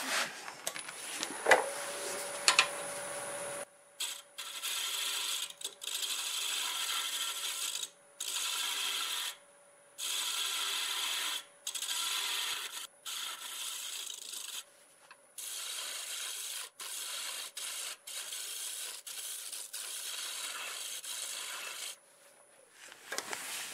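Sandpaper rubs against a spinning wood turning on a lathe in a steady, close hiss that comes in repeated bursts with short pauses, no talking.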